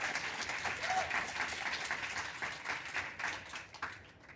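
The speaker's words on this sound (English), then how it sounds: "A big round of applause for everybody." An audience at an art talk on Black figuration in painting gives a sustained round of applause, dense steady clapping from many hands that holds for several seconds and thins slightly toward the end.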